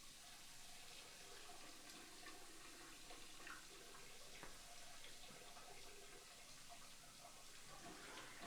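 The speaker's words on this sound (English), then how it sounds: "I turned on the faucet" Water runs steadily from a faucet, a continuous faint splashing hiss with no other sounds over it.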